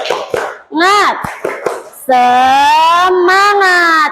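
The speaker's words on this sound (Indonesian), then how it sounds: "mari kita tepuk semangat terlebih dahulu" Classroom of pupils doing a rhythmic clapping chant with a teacher, sharp hand claps interleaved with loud sung and spoken chant voices, close and energetic.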